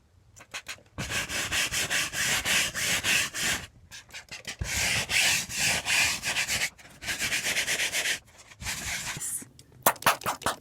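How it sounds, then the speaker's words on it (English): Scrubbing mold off a surface inside a camper rig makes repeated rhythmic rough rubbing strokes in long bursts, close and steady, separated by short pauses with no talk. "And now I'm just going to scrub away."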